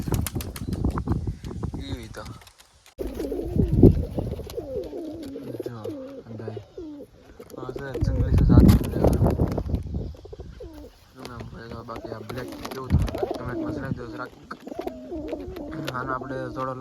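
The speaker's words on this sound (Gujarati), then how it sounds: "જો કબૂતર પણ આવી ગયું છે" Pigeons coo repeatedly in soft, rolling phrases with occasional wing flaps, close by, while a person talks over them at intervals.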